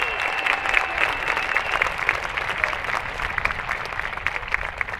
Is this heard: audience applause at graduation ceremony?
yes